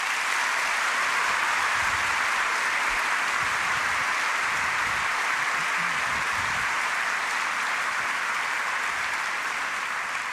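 Audience at a panel debate on Islam, violence and peace applauding after a speech, an even, sustained roar of clapping that holds steady for the whole stretch.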